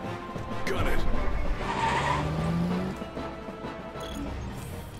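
Car driven manually in the Final Fantasy XV game, its engine and tires skidding with squeals at a steady loud level, with game voices talking over it.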